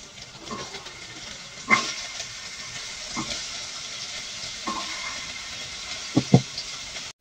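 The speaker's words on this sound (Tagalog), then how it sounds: "Magluluto na po tayo at magigisa na ako guys." Garlic and onion sauté in a hot pan, giving a steady close hiss, with a few soft utensil clanks scattered through.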